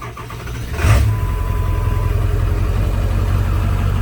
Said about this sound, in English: So let's go ahead, fire the truck up and see what it does.